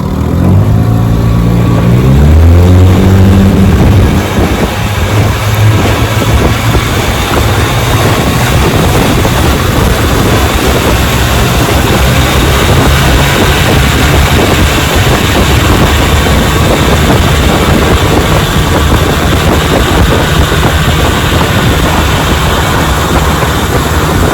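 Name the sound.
1957 Johnson Sea Horse outboard motor running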